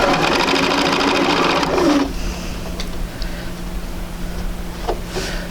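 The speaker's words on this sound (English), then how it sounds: "So we'll take those over and sew a 4 patch." Sewing machine stitching a four patch quilt block, a fast close whirring run for about two seconds before stopping, leaving a quiet room with faint soft handling sounds.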